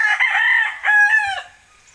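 A chicken crows once in a single loud, close cock-a-doodle-doo lasting about a second and a half, then fades to quiet.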